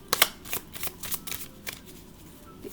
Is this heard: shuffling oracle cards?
yes